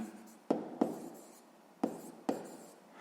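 Chalk or marker strokes on a classroom board during a sixth-grade maths lesson: four sharp, separate taps and scratches, close and fairly faint, with quiet pauses between them.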